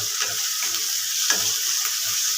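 Onions frying in a pan at home, a steady close sizzle and crackle with a few brief stirring scrapes, no talking.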